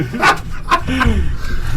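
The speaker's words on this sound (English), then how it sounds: "Excuse my dog." A pet dog barks a few times close by indoors, short sharp barks with a whimpering tone, heard during a casual podcast conversation.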